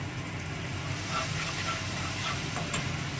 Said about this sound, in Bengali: এবার একটু জল দেবো জল দিয়ে কষাবো